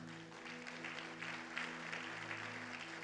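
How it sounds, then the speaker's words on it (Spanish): Faint, distant applause from a church congregation praising the Lord, soft and diffuse over a steady low electrical hum, lasting the whole few seconds. "¿Cuánto le dan un fuerte aplauso al Señor?"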